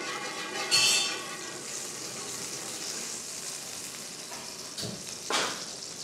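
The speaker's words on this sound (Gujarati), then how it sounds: "તેલ ફ્રાય થશે" Cottonseed oil heats and fries in a pan with a continuous, moderately loud sizzle. A few sharper crackles and splashes rise out of it, and no voices are heard.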